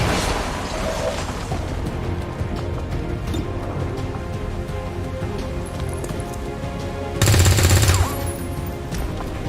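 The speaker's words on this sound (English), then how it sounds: "There's heavy fire in this zone. I'm taking fire." Heavy gunfire in the XCOM 2 video game: dense, continuous rattling shots and booms fill the clip at close range, with a louder burst near the end, and no talking.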